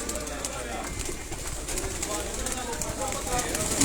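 Pigeons being readied for the summer season at a loft in Sialkot coo amid a dense, steady wash of outdoor noise, their soft calls blending into the busy background throughout.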